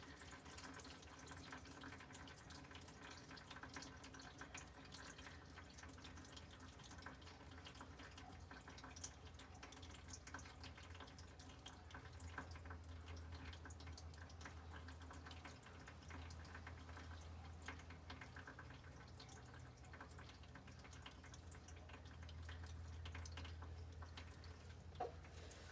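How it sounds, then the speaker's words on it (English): Diesel fuel drains from the frame-mounted fuel filter of a 2019 Ram 2500 with a 6.7 Cummins, a faint, continuous trickling and dripping under a low steady hum, with no speech. "Alright, it's still draining a little bit."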